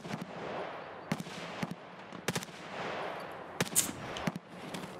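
Gunfire in Escape from Tarkov, sharp cracks arriving in short clusters and single shots over several seconds, moderately loud against a quiet outdoor background, with no talking.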